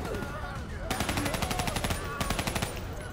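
Automatic gunfire in Call of Duty Black Ops 3, with two tight bursts of rhythmic rifle shots that crack loudly over a background of battle noise and are separated by a short pause.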